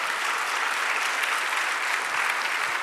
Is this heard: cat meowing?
no